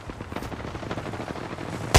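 Automatic gunfire in the shooter video game Apex Legends: a dense rapid burst of shots running through the whole two seconds, moderately loud and close, ending in a sharp louder crack.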